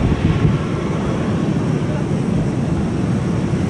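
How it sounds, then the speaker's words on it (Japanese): A plane begins to taxi at Centrair airport, heard from the open sky deck as a steady, broad low rumble mixed with wind buffeting the microphone. "ああ、進み出した飛行機"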